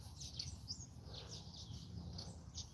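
Birds sing outdoors in several short, high chirps and tweets, faint and somewhat distant, over a quiet low background rumble.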